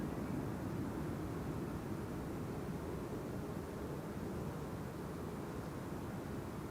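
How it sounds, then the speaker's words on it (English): Steady broadband roar of an Airbus A330neo jet airliner taking off from Amsterdam Schiphol's Polderbaan runway 36L, distant and constant throughout without voices. "That is an A330 Neo. Going to Salt Lake City."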